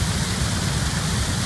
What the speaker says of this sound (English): We're out at our favorite waterfall